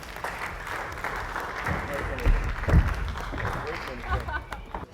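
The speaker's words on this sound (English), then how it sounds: "How about a nice round of applause?" A group at a 2015 captains academy session gives a round of applause, a moderate wash of clapping that swells midway and then fades, with talking over it.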